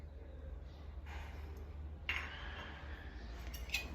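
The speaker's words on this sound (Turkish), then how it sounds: "Şimdi bunları bu suyun içine karıştırıyorum." A spoon stirs granulated sugar into a container of water, giving faint clinks and scrapes against the side, with a couple of sharper taps standing out over a low background hum.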